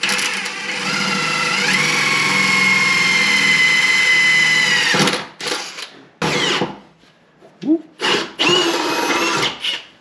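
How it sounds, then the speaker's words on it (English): A power drill with a 3/16 bit whines steadily for several seconds drilling holes on a Jeep WJ, then runs in short bursts of starts and stops, loud and close. "Now I am letting the drill do the work."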